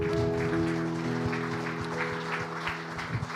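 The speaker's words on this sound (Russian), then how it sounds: "Давайте мы еще раз дадим Ему аплодисменты." Congregation applauding during a Sunday church service, steady dense clapping with scattered sharper claps, heard over sustained organ or keyboard chords.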